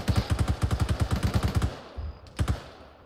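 Rapid automatic gunfire crackles in a video game, a loud burst of about fifteen evenly spaced shots lasting over a second and a half, followed by a short pause and two louder single reports.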